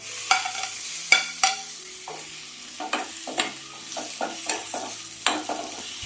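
Chopped tomato frying in a pan with black pepper and green chili, a soft sizzle under repeated spoon clinks and stirring taps at an uneven rhythm, close and clear, with no speech.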